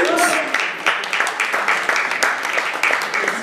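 Steady audience applause at a gospel music event, a dense, continuous patter of many hands with brief cheering tones at the start, moderately loud throughout.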